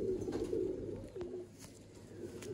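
A male Kasuri Rampuri mix pigeon coos in low, throaty, rolling murmurs that continue through a short stretch, close by with faint background noise and no speech.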